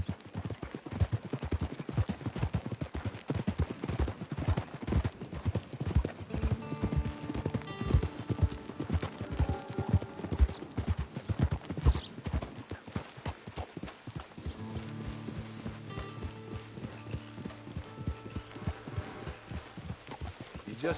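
Horse hooves clip-clopping steadily on a trail in the Red Dead Online video game, close and rhythmic throughout, with game music tones drifting in over the second half.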